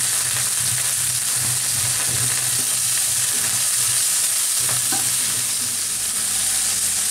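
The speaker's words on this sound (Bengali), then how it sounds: "তার মধ্যে আমি এই যে চিংড়ি মাছগুলো যেগুলো আমি একটু ইয়ে দিয়ে লবণ দিয়ে মাখা রাখছিলাম, ওগুলা দিয়ে একটু ভেজে নিব।" Salted shrimp fry over high heat with browned garlic for a Chinese shrimp and broccoli dish, a loud, dense, continuous sizzle with rhythmic stirring scrapes, close up and without talk.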